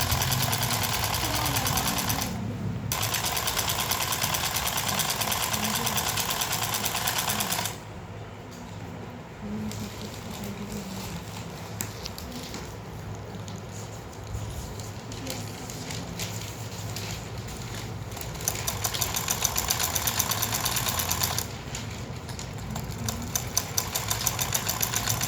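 A sewing machine hums continuously while stitching a samosa-cut pajama seam, a steady mechanical whir running under a speaking voice for the whole stretch.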